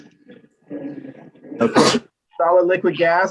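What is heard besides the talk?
sneeze in lecture hall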